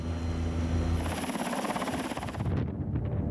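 An NH-90 military helicopter of the German armed forces flies past, a steady rotor and turbine roar with a high whine that fades out near the end of the few seconds.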